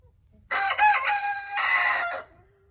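A rooster crows once, loud and near, in a drawn-out call that rises and then holds before cutting off, with quiet surroundings before and after.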